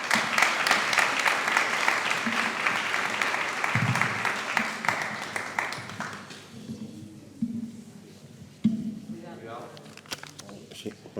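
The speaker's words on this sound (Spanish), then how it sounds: "Un fuerte aplauso." Audience at a literary contest event in La Orotava breaks into lively applause that fades out after about six seconds, with people talking over it and afterwards.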